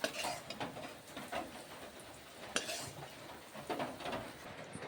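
Fried okra is scooped from a pan onto a plate, with clinking and scraping of a utensil against metal and dish, irregular knocks and soft residual sizzle, fairly quiet and close.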